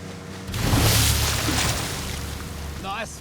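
A boat powers through a tight, fast turn toward the point of an island while tracking great white sharks, engine and rushing water swelling loudly then settling under wind, with a voice speaking near the end.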